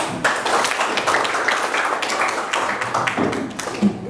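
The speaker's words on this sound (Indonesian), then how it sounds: "tepuk tangan dulu" Schoolchildren clap their hands together in a classroom, a dense, steady patter of many small hands close by that carries on for several seconds.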